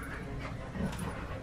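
Labrador dogs panting through a tug-of-war game indoors, steady close breathing with a faint whimper partway through.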